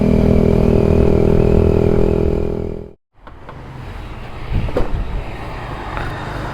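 A Yamaha MX King 150 motorcycle with a Bpro racing exhaust gives a loud, steady droning engine note, cuts out abruptly, then returns as a rougher, noisier rumble.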